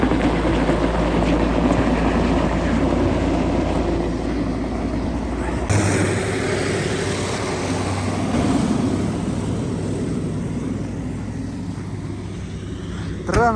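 A tented truck drives on an icy road at -55°C, with a steady, loud engine and road rumble throughout that shifts abruptly partway through.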